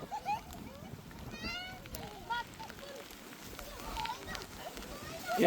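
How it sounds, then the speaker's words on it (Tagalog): Heavy rain pours down outdoors beside a drum used for roasting lechon, making a dense, steady hiss that grows toward the end. Voices talk and call out over it. "malakas na yung ulan"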